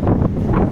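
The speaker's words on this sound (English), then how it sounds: "it's quite windy actually" Low rumbling wind buffeting the microphone outside Beauvais airport terminal, a continuous muffled roar with slight gusts and no voices.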